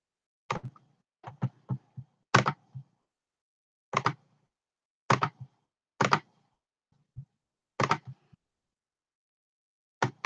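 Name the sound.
computer mouse clicking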